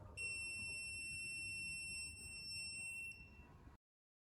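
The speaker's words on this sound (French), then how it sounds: "Quand la sonde magnétique détecte un objet fortement magnétique, l'alarme retentit en continu" An M8000 magnetic metal detector sounds its alarm over a strongly magnetic object: a steady, piercing electronic tone held continuously for several seconds before cutting off abruptly.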